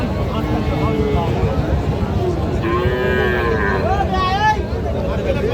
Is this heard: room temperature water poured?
no